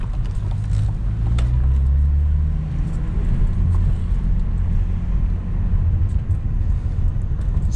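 Cadillac CT4-V Blackwing driving and turning into a parking lot, heard from inside as a loud steady low engine rumble and road drone with a slight swell early on.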